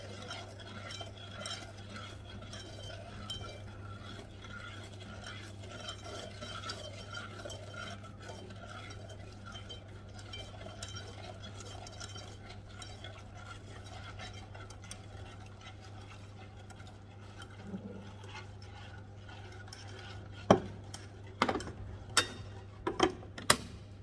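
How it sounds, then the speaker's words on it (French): A spoon stirs milk into sugar steadily in an unheated saucepan for a long stretch, soft scraping and swishing, ending with a few sharp clinks against the metal. "on peut petit à petit mettre le lait dans la casserole, toujours sans mettre le feu, et mélanger petit à petit"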